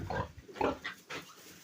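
Several short grunts and squeals from young pigs, close and fairly soft, in quick irregular bursts.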